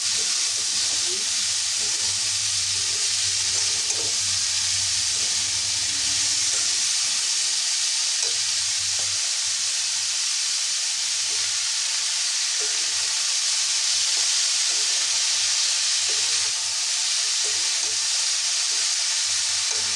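Snake gourd frying in a pan, a loud and steady broadband sizzle that runs unbroken throughout, with faint stirring sounds underneath.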